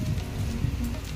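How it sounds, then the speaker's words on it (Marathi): Rainwater pours off a terrace in steady rain, a continuous splashing patter close by that carries on evenly without any voices. "टेरेसवरचं पाणी पडतंय।"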